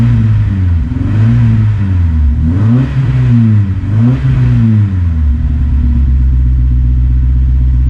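A 2006 Honda S2000 AP2 engine running with a misfire, loud and close, revving up and down in a couple of wavering swells before settling into an uneven, lumpy idle.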